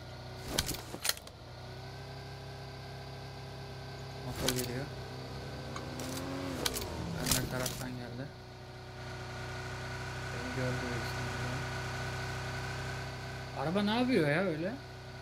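A car engine drones steadily in the PUBG Lite game, a continuous mechanical hum running throughout, with sharp clicks and a voice talking over it.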